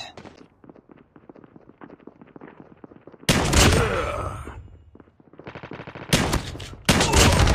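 Call of Duty Mobile gunfire in a hardpoint match: a quiet stretch of soft, rapid ticking gives way to loud, close automatic bursts, a brief lull, then two more sharp, heavy volleys.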